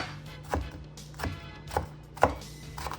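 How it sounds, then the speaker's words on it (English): A knife chops vegetables on a small cutting board while making black bean burgers: four sharp, close wooden knocks at uneven intervals over a low steady hum. "Just chop it up"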